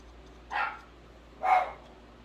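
Two short, sharp dog barks about a second apart, at moderate distance, with quiet background in between.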